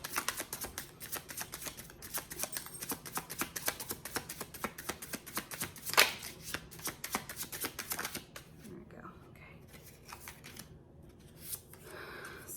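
Tarot cards shuffled and drawn by hand, with a rapid run of crisp riffling flicks and card snaps for about eight seconds, then quieter slides and taps of individual cards being pulled, close and clear.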